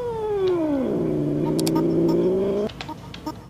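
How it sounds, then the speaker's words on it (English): A hissing cat sound played from a soundboard: one loud, drawn-out yowling caterwaul with a falling pitch that holds steady for about two seconds, then cuts off abruptly, leaving faint clicks and background noise. "Number three is a hissing cat"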